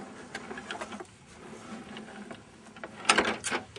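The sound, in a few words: AccuQuilt GO fabric cutter being cranked, cutting fabric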